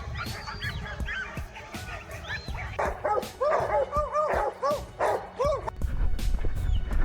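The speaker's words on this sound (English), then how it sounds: "the dog suddenly barked, sharper, more urgent this time" Hunting dog barking during a wild boar hunt outdoors, several sharp barks in quick runs that come and go, loud and fairly close over rustling and background noise.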